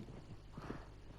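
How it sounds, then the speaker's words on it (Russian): A horse in the Red Dead Redemption 2 video game approaches with a quick clip-clop of hooves and a soft neigh, quiet and brief. "Надеюсь, моя лошадь идет ко мне."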